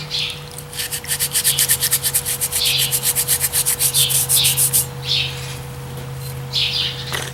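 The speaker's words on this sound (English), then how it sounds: "You just give it a little scrub" Repeated scrubbing strokes on an old axe head loosening its softened finish, a quick run of rhythmic rubbing bursts near the start followed by a few slower scrubs, with birds chirping in the background throughout.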